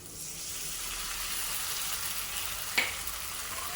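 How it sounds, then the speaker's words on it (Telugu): Cashew paste being stirred into a ridge gourd curry in a hot pan: a steady, soft sizzling hiss throughout, with one brief scrape of the spoon near the end. "అది ఇందులో వేసేసి మంచిగా కలిపేసేయాలన్నమాట. చూడండి జాగ్రత్తగా కలపాలండి."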